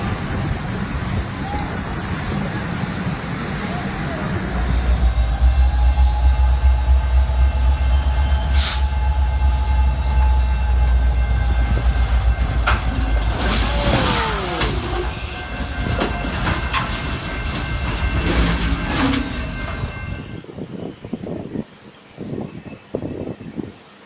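A speeding train passes close by with a loud, steady roar, rumbling low tones and rhythmic clickety-clack of wheels, then the noise drops away sharply near the end, leaving faint clatter.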